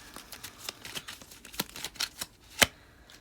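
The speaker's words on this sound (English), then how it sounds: "So we're gonna do one more shuffle." A deck of playing cards is shuffled by hand, giving a quick run of soft riffling flicks and taps that ends in one sharp crisp snap, close and quiet with no talk.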